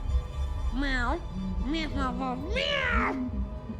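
A cat in Vampire: The Masquerade - Bloodlines 2 meows three times in quick succession, close and clear, with rising and falling drawn-out cries over a low hum.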